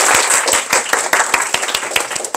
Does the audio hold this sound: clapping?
yes